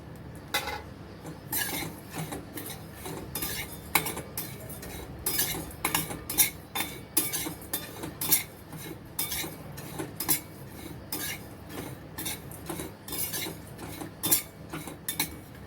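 Sesame and poppy seeds dry-roasting in a pan for Govind laddu, a spoon scraping and clinking against the metal in a busy irregular rhythm, close and lively, with faint seed crackle beneath and no voices.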